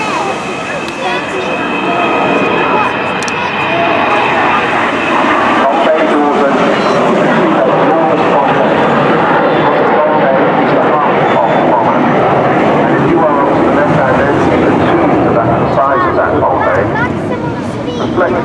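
A loud, steady roar of an Avro Vulcan XH558 jet bomber passing overhead at Eastbourne Airshow, sustained throughout with a broad rumbling texture, and faint voices in the background.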